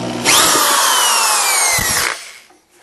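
A power drill whines at high speed for about two seconds while driving a screw into a metal structure for an electric heat-treat oven, loud and close, then spins down.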